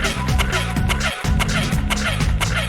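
A steady, gritty metallic grinding from a video game skateboard, continuous and loud with a brief dropout partway through.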